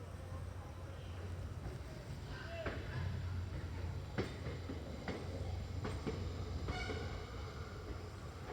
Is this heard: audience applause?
no